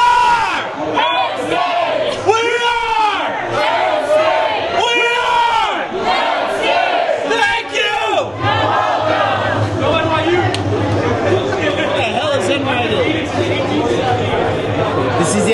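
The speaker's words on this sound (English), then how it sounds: "can I get a little Penn State cheer?" A table of Penn State football fans at a Hoboken gathering yell a loud cheer together, with rowdy overlapping shouts and whoops that stay close and sustained.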